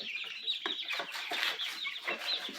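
Crowded pen of young chickens, clucking and chirping continuously in a dense overlapping chorus, fairly close and moderately loud with no talk.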